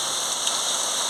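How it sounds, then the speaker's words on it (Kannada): Unseasonal rain falling in Maski in late January, a steady, even hiss of rainfall on surfaces that fills the short stretch without pauses, close and moderately loud, with no voices. "ಮಸ್ಕಿಯಲ್ಲಿ ಅಕಾಲಿಕ ಮಳೆ ಬೀಳ್ತಾ ಇದೆ."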